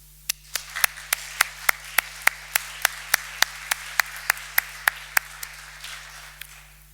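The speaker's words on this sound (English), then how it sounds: "I therefore would like you all to join me in a second applaud, this time for all of you who are making this event possible" Applause at the opening ceremony of a criminology symposium in Stockholm, heard as a steady run of sharp, evenly spaced claps, close and fairly loud, that thins out and fades over the last second with no talking.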